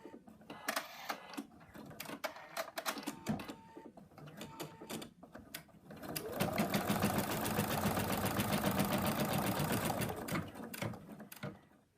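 A computerized embroidery machine stitches a leg onto a Fred the Frog toy, first in scattered short bursts of needle clatter, then a loud, steady, rapid run of stitching for several seconds before winding down.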